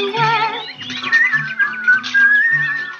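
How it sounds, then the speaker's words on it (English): A person whistles a wavering melodic tune, fairly loud and close, over a low repeating musical backing. "Just whistle while you work."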